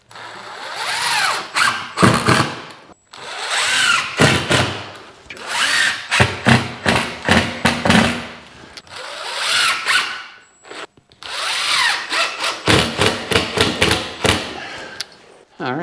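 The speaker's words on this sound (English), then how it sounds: "Okay, we get a few screws in it." Power drill driving screws into wood framing on a log house, several loud whirring bursts with short pauses between them and brief talk in the gaps.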